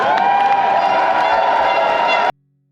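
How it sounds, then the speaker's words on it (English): Audience at an HEC Paris MBA event cheering and clapping in a steady, loud, dense burst that cuts off abruptly after about two seconds. "Please give yourselves a round of applause."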